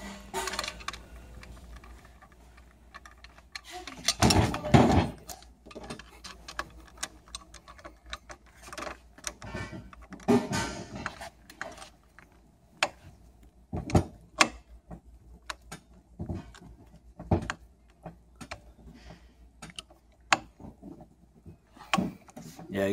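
Screws being driven tight into a Lifetime action grip handle during assembly, heard as a run of sharp, irregular clicks and ticks with a few louder knocks, close up and with no talk over it.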